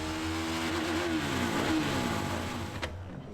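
A motorcycle engine revs hard on a dynamometer during a first baseline pass, a loud, sustained, rising and wavering roar close by that cuts off abruptly near the end.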